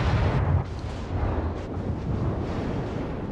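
Secondary guns of a warship firing in the World of Warships naval battle game, a deep rumbling barrage of booming blasts that blend into one continuous roar, loud and close.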